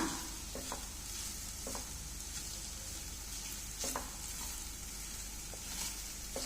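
Sweet potato payasam ingredients fry in a pan, a faint continuous hiss broken by a few sharp spatula scrapes and taps.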